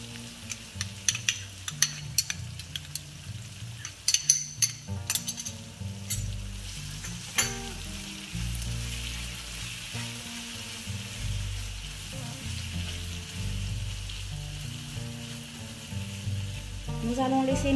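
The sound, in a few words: onions frying with marinade of garlic, pepper, chili and pepper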